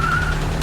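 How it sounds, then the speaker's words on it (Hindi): Race car tyres screech in a brief, loud burst over a dense, steady engine roar, close and continuous with no talk. "मुझे स्क्रीचिंग की आवाज आ रही है।"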